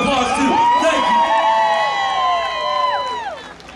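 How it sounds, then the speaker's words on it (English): Crowd cheering, whooping and applauding at a fair concert, a dense sustained roar of many voices with shouts rising over it, loud and close throughout before tapering slightly at the end. "Give them a round of applause too."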